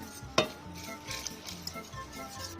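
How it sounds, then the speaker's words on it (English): A whisk scraping and clinking against a pot of bolognese-style sauce. One sharp knock comes early, followed by soft irregular stirring taps and swishes, quiet and close, with no talking. "Whisk really well."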